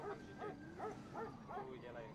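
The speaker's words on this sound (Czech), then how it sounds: "Nejdu tam, tam je ten pes." A dog in the video game FiveM (GTA V) barks in a steady run of five or six yelping woofs, moderately loud and evenly spaced.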